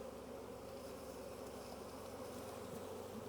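Honey bees dumped into a container during a November varroa mite check at a healthy hive give a steady, dense buzz, close and continuous throughout with no talking.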